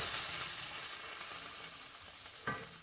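Garlic, onion, turmeric and cardamom fry in grease with a steady, fairly loud sizzle that hisses on without a break, and a brief sharper crackle flares near the end.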